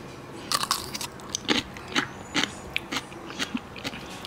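A crunchy homemade cucumber pickle is bitten and chewed up close, a string of sharp, crisp crunches repeating about every half second, loud against a quiet background with no talking.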